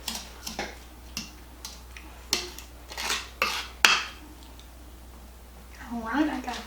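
A spoon stirs a cinnamon mixture in a bowl, giving a series of light, close clinks and scrapes at an irregular pace, then fading near the end.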